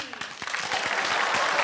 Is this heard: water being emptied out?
no